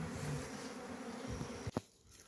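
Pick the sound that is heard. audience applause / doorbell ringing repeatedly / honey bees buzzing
honey bees buzzing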